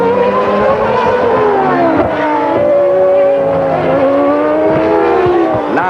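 A 1994 Formula 1 race car, Damon Hill's, accelerates out of the pit lane after a stop, its high engine whine climbing and shifting pitch continuously, loud and close, with other engine tones layered beneath.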